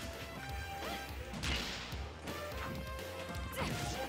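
Forward smash attack landing in a Super Smash Bros match, a loud crashing hit with a whooshing swing amid busy game audio and crowd-like noise.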